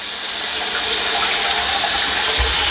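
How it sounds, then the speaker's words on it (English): Water pours steadily into a rebuilt filter chamber as it flows back toward a garden pond, a continuous close splashing rush with a brief low thump near the end. "Now the water's filling up"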